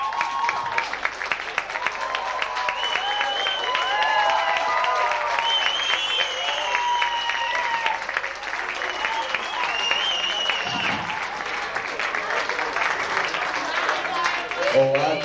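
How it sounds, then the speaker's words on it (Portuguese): An audience applauds a band being introduced on stage, with steady clapping that continues throughout while excited voices and whoops rise over it. "Uma salva de palmas."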